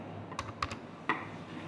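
Keys on a computer keyboard are struck in a short burst of about four distinct clicks, sparse and irregular, recorded close against a faint room hush with no talking.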